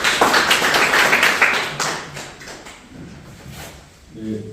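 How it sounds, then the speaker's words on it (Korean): A room of people at a local development forum claps steadily for a few seconds, the applause tapering off, then a voice begins speaking. "큰 박수 부탁드립니다."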